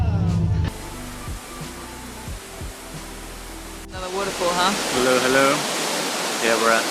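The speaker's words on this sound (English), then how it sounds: "Waterfall going into this pool" Steady broadband rush of a waterfall pouring into a pool at Emerald Pool, Dominica, fills the background throughout, with people talking over it in the second half.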